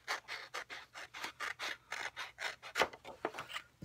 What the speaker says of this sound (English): And then I'm going to just cut off this whole